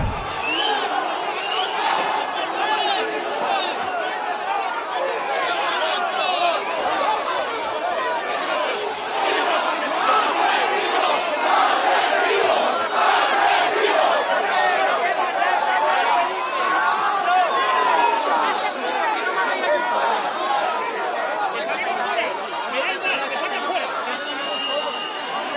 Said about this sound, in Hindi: गुस्साई भीड़ ने उनके ऊपर हमला किया